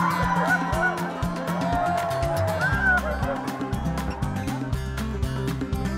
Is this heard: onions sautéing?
no